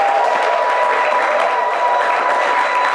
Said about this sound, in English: So a round of applause for them before they come as well.